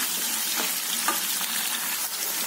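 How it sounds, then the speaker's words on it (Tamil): Shallots and dried red chillies sautéing in a pan, a steady bright sizzle with occasional stirring scrapes, close and continuous without talk. "வெங்காயம் நல்லா வதங்கிடுச்சு."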